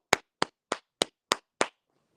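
A handful of crisp, close claps from a rally crowd, six evenly spaced sharp hits in a steady rhythm, then silence.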